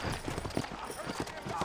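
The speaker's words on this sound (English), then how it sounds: "You ain't gonna find sturdier horses than these in all of New Orleans." Horse hooves clip-clop in a steady rhythm in the western video game Red Dead Redemption, moderately close, while someone speaks over the hoofbeats.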